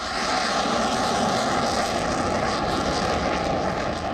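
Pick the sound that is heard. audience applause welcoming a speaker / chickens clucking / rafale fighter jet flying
rafale fighter jet flying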